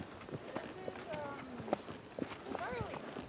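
Horse hooves clip-clop along a trail during a ride at Kurtz Corral in Door County, a loose walking rhythm of soft thuds with people talking over it and a high steady whine in the background.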